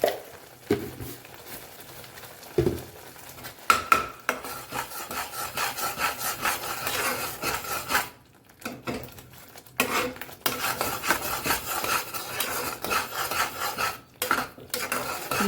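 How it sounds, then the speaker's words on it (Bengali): Spice masala being stirred and sautéed in a pan with green chilies and salt, a steady scraping and rubbing of a spatula against the pan with a few brief pauses, close and fairly loud, no talking. "হয়ে গেছে মশলাটা কষানো"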